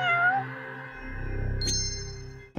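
A cat meows in the Judgment video game, with one drawn-out, clear, fairly loud meow followed by a brief higher squeak near the end.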